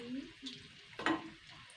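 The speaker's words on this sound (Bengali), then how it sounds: "তো এইটাকে সুন্দর করে এবারে উল্টে পাল্টে দিতে হবে এক সাইড ভাজা হয়ে গেছে" Fish roe cakes frying in a pan, a soft steady sizzle with a louder burst of spattering as one cake is turned over, up close.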